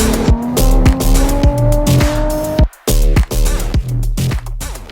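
2023 Nissan Patrol driven hard across desert sand, loud close engine revving in rising, shifting strokes with tire squeal and skidding, a brief cut-out midway before the engine roars back.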